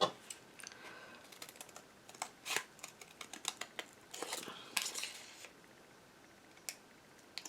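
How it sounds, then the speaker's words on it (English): Scissors snip out paper palm tree shapes for a handmade card, making quiet, irregular close-up clicks and crisp cuts with short pauses between them. "And I'm going to cut out these palm trees."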